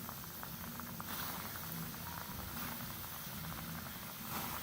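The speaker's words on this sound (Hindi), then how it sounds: "चिकन पॉपकॉर्न फ्राई करते हैं। ऑयल हमारा गर्म हो चुका हुआ है।" Chicken popcorn pieces fry in hot oil with a steady, quiet sizzle and bubbling crackle that holds throughout. There is no talking.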